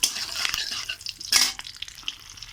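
Dried and green chillies with whole spices and a cracked cardamom pod sputter in hot oil while a spoon stirs and scrapes the pan, a close crackling sizzle with a brief louder burst midway.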